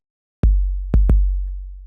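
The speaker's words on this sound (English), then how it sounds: "So the way that I made this was by taking an 808 kick" Deep 808 kick drum hits: a single long booming one, then two quick hits with long sustained sub-bass tails.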